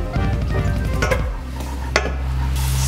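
Garlic (bawang) dropped into hot cooking oil for a Filipino adobo-flavored ramen, a short loud sizzle with stirring and a utensil clink against the pan, close up.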